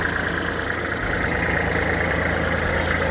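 A Kubota L3408 DT tractor diesel engine, a 2008 registration, idles steadily and close by, with an even low rumble and light knock throughout and no voices.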